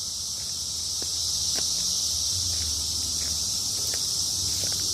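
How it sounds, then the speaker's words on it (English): Cicadas drone in a steady, continuous high-pitched buzz outdoors on a June walk among trees, with faint footsteps and rustling beneath it and no talking. "But yeah, first day of cicadas, can really hear them."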